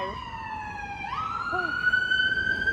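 A wailing emergency vehicle siren sweeps upward in pitch, fairly loud over background traffic rumble in Nottingham.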